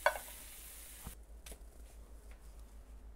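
Onions searing in a hot pan for sukiyaki, a soft steady sizzle with a couple of brief stirring or flipping clicks near the start, close and quiet, with no speech.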